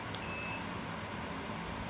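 An LG PuriCare 500IG air purifier gives one short, faint electronic beep when its timer button is pressed, followed by a thin tone over the steady hum of the running fan.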